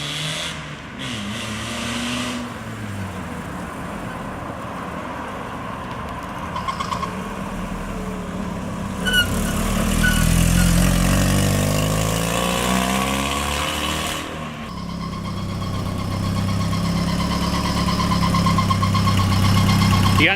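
A Miata-powered kart running on a new exhaust, engine idling and revving steadily throughout, with a rising rev swell near the middle, fairly close and continuous with no talk.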